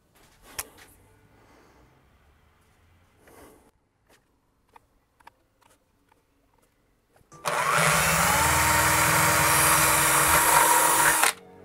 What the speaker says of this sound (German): Dann markieren wir jetzt Löcher, bohren die schon mal.